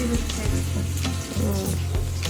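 Luchi fry in a pan with a continuous, close sizzle. The bubbling holds steady for a couple of seconds, with no voices over it.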